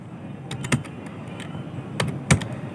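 Keystrokes on a computer keyboard as a captcha is entered, a handful of sharp close clicks in two short bursts over a low room hum.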